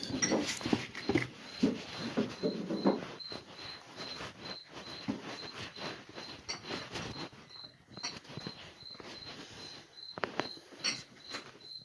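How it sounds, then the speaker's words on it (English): A cricket chirps steadily and loudly throughout, its regular high pulses running the whole time over background clatter and rustling from handling items. "that cricket is still going"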